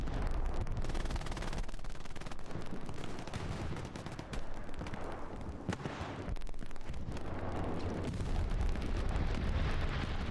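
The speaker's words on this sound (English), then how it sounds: "Got strafing run coming across as well." Aircraft strafing run in the WWII shooter game Hell Let Loose, heard as a sustained, dense roar of rapid gunfire and rumbling impacts lasting throughout, with a brief dip midway before the barrage swells again.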